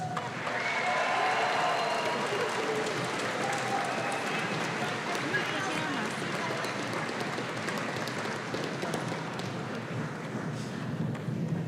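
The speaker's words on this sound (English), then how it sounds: "please give a warm round of applause to our senior vocal jazz members." Sustained, loud applause from a large audience at a high school graduation ceremony, a dense wash of clapping that continues evenly for several seconds without pause.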